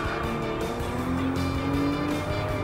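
Toyota GR Supra RZ in Gran Turismo Sport with its engine note steady and loud throughout, a rising pitch and faint tire squeal hinting at hard braking into a corner, with no voices over it.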